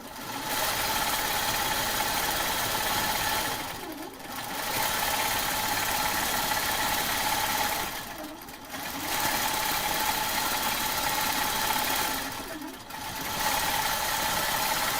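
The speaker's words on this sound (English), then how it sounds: "going to go to the corner and begin stitching the ditch" A computerized quilting machine stitches in the ditch with a steady, rapid mechanical hum, pausing briefly three times at regular intervals before resuming, close and moderately loud with no talk.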